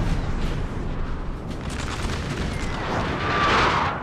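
Steady rumble of distant artillery fire across a Napoleon Total War multiplayer battlefield, continuous booming wash with a swell near the end, no voices.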